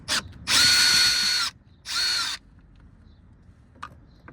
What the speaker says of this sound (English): I'm going to be using a little snap-on screw gun to do this